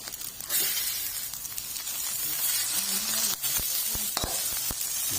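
An egg fries in a hot pan for sticky rice, with a loud steady sizzle and hiss punctuated by several sharp pops and spatters toward the end.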